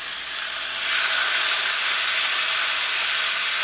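Tarragon sauce poured into a hot pan with grilled chicken steak, a loud continuous sizzle and hiss that swells and holds steady.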